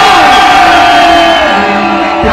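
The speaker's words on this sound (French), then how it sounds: "côté gauche, il va falloir un petit peu crier bien fort, et côté droit, c'est pareil" A large concert crowd shouts loudly on cue at an outdoor show in Port la Nouvelle, a sustained dense roar of yelling and cheering that fills the whole moment at full volume.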